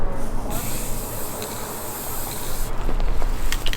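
A spray paint can hisses in steady bursts onto arrows, a broad airy spray that cuts off briefly and resumes, close and fairly loud.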